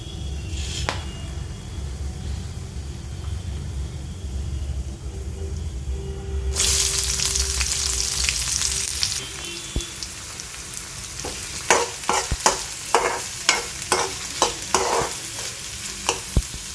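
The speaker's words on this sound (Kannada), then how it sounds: "ನಾನು ಫಸ್ಟು ಪಲಾವ್ ಎಲೆ, ಜೀರಿಗೆ ಅದೆಲ್ಲ ಹಾಕ್ಕೊತಾ ಇದ್ದೀನಿ. ನೋಡಿ, ತುಪ್ಪ ಕಾದಿದೆ." Bay leaf and cumin hit hot ghee in a pan, giving a sudden loud sizzle that settles into steady frying with a faint background hiss, then repeated clinks of a stirring spoon.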